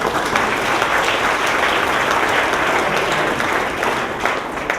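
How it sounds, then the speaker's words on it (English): Loud, dense applause from a campus audience at a State of the Campus address, continuous clapping from many hands that stays steady throughout and tapers slightly at the end. "I think we can clap for that."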